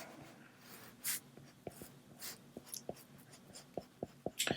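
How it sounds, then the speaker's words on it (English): Pencil drawing a cartoon dog on paper, heard as soft scratchy strokes and short taps in an irregular rhythm, close and fairly quiet, with a few brief louder swishes. "when we're drawing with pencil"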